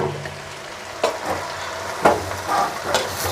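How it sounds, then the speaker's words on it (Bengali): Chopped jute leaves fry in a little oil for a jackfruit-seed and jute-leaf stir-fry, a close sizzle punctuated by several sharp stirring scrapes against the pan, with no voices. "এই পাট শাক দিয়ে, কাঁঠালের বিচি দিয়ে পাট শাক ভাজি"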